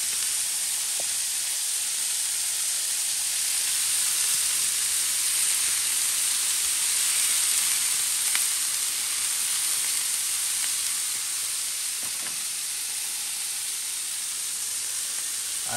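Meat for a Norwegian wild game stew sizzles steadily in a hot pan, a constant close hiss with occasional small pops and stirring ticks, no talking.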